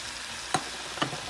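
Shrimp curry cooks in a pan with a soft, constant sizzle, and two quick spoon scrapes land about half a second apart.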